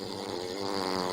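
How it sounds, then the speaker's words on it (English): A person snoring during a sports podcast recording, a steady rasping drone with rhythmic breathy texture running through the whole stretch at moderate level, no talk over it. "You were snoring, bud."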